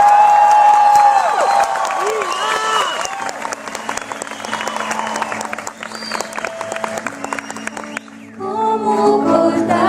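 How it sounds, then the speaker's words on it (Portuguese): An audience at a live music show with a singer claps and cheers for several seconds, a broad burst of applause with whoops that thins out as a voice speaks over it. "Aplauso, aplauso."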